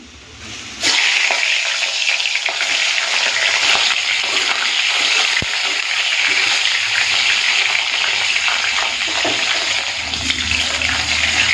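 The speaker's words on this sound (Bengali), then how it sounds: "প্রথমে ইলিশ মাছের মাথাগুলো ভেজে নেবো" Hilsa fish heads drop into hot mustard oil in a kadai with a sudden loud burst of sizzling, then a dense, roaring spatter that holds steady and close.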